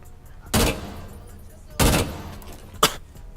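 Three sharp gunshots fired into a wall in Rainbow Six Siege, spaced about a second apart, each a loud crack with a quick decay over quiet in-game ambience.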